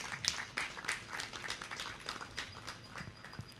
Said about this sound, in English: Give him a great clap.